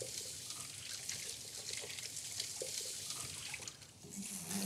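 Water pours steadily through a potted indoor plant's potting mix as it is flushed, a faint, continuous close trickle and splash with small drips, easing briefly before picking up again.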